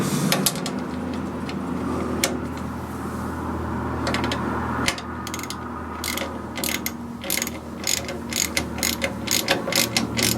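A socket ratchet tightens bolts on the front caliper brackets of an MGA during restoration, its pawl clicking in rapid close bursts over a steady background hum, with the clicks growing more distinct and rhythmic toward the end.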